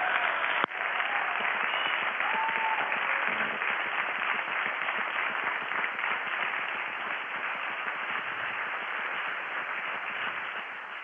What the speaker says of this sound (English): Can I hear a big cheer from the audience for Don and Andre?